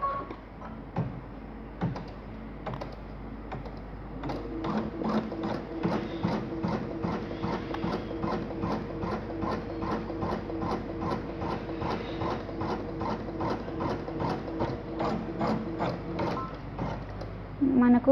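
A computer embroidery machine stitches a bangle design with a rapid, steady mechanical ticking and clattering that begins after a few seconds and continues evenly at close range.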